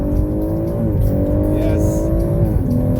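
A modified BMW M140i accelerates hard, heard from inside the cabin at a drag racing event in South Africa; the loud, steady engine drone climbs in pitch through gear changes as someone briefly speaks.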